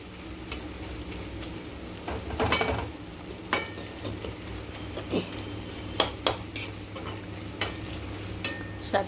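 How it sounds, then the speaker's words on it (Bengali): A lid is lifted off a pan of simmering spinach and tomato curry, setting off scattered metallic clinks and scrapes over a soft steady sizzle, with sharp clatters at irregular intervals. "এবার ঢাকাটা তুলে দেব।"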